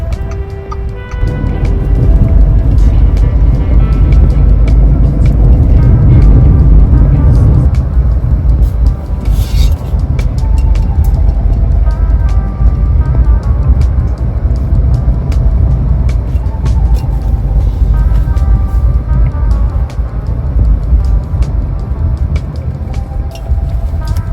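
Busy road traffic on a school campus at pickup time, a steady loud rumble of cars and buses rolling past nearby, with occasional brake hiss and ticking.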